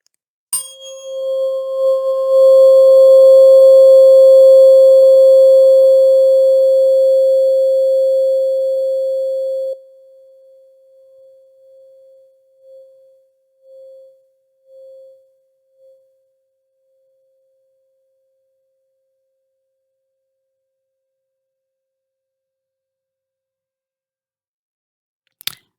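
A steady pure 528 Hz sine tone held loudly for about nine seconds, then breaking into a few fading pulses before silence.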